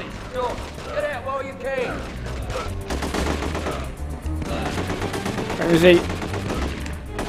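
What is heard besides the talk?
gunfire from video game The Getaway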